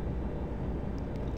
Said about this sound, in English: there's the electronic engines kicking in.